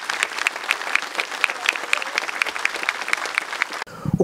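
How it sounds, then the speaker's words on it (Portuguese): Strong, sustained applause from a gathered crowd at a military funeral for a subtenente in Tamboara, dense rhythmic clapping throughout before ending abruptly near the close. "forte salva de palmas"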